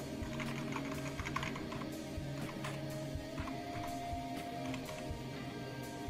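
Rapid, continuous tapping and clacking of computer keyboard keys as many buttons are pressed at once, close up over a steady background hum.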